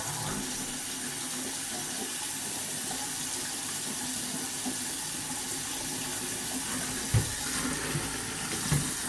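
A kitchen faucet runs in a steady, even stream of water, filling the whole stretch with constant splashing into the sink, with a few brief knocks near the end.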